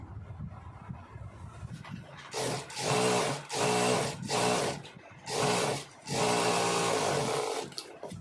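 Sewing machine stitching contrast piping onto fabric, running in several bursts of steady whirring, each a second or two long with short pauses between, close and fairly loud with no talking.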